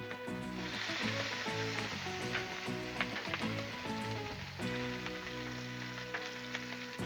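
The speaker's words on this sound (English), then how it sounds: "All right, we got most of this bacon cooked up." Strips of bacon sizzle and fry steadily on a flat-top Blackstone griddle, a close, continuous crackling hiss with scattered pops throughout, no talking.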